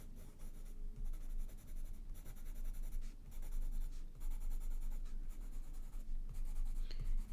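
Irojiten colored pencil scratches steadily across notebook paper in short back-and-forth strokes with brief pauses between bursts, close up and quiet, with no voices.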